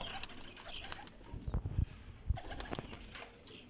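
Pigeons in a breeder's loft coo softly in low murmurs while wings flap in a couple of loud bursts nearby, with faint chirps around them.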